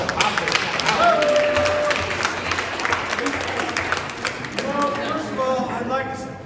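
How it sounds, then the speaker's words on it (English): Audience applause at a basketball awards night, steady dense clapping throughout with crowd noise and a few voices mixed in, fairly close and moderately loud. "Big round of applause for Roland Harper."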